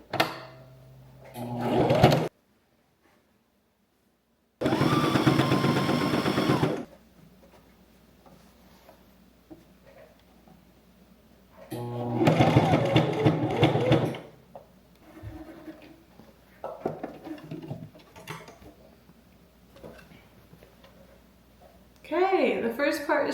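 A home sewing machine stitching fabric for a skirt runs in a few loud, close bursts of rapid whirring and ticking, separated by quiet pauses and some talk.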